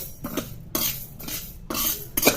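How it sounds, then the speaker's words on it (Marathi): Flaxseeds being dry-roasted for a winter chutney, stirred in a pan with a spoon: a series of rhythmic scraping and rattling strokes against the metal, moderately close, with no talk. "जवस हे थोडे परतून घ्यायचे जेणेकरून आपली जी चटणी आहे ती खमंग लागेल"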